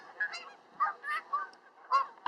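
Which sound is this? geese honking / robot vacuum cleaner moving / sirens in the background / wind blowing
geese honking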